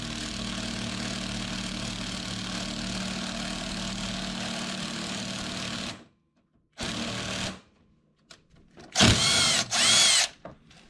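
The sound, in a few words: power tool with 1/2 inch socket tightening insert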